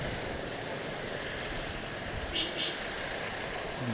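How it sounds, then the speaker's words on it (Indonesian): Tour bus passing in heavy morning traffic on a tourist route near Cimaung, Bandung, a steady engine and road rumble with a brief hiss midway, moderately close. "Tuh ada bus pariwisata juga lor."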